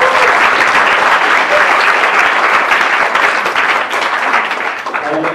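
A large crowd of students at an Islamic boarding school gathering claps loudly and densely for the school, a sustained roar of applause that tapers slightly toward the end.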